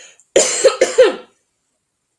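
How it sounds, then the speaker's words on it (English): A close, sharp burst of about four quick coughs in a row, followed by silence. "sorry, coughing in your ear."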